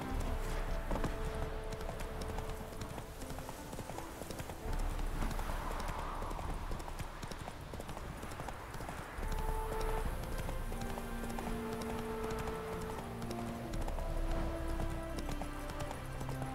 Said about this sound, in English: 好多马，怎么这么多马？